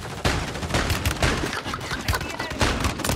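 A pistol fires in video game gameplay: a quick series of loud, punchy shots at an uneven pace over a busy, noisy battle background, with the shots overlapping one another.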